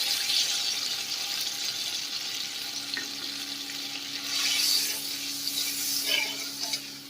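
Water is added to a pomfret fish curry cooking in a pan, and a steady sizzling, bubbling hiss follows, swelling briefly near the middle and end.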